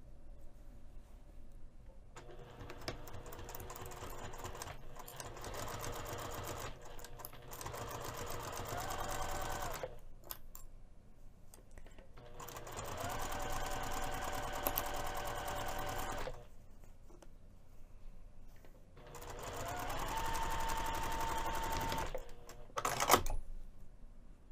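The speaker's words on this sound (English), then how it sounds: "I'm just going to go ahead and close the opening by machine" A sewing machine stitches a scarf's opening shut with a 1/8 inch seam, running in several long whirring bursts separated by short pauses, ending with a sharp click.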